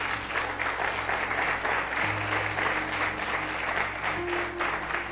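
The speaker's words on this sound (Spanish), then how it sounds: "¿Por qué no les damos un aplauso a ellos?" A church congregation applauding its members, a sustained, dense clapping from a large crowd lasting several seconds over a faint low musical hum.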